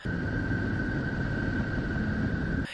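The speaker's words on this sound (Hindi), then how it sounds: "ये जो भी आप सुन रहे हैं ये नेपच्यून की आवाज है।" Neptune's electromagnetic vibrations converted to sound: a faint, steady rushing hiss with a thin sustained whistle above it, like distant surf, continuing unchanged for under three seconds.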